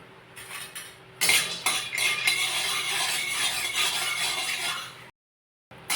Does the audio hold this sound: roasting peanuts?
yes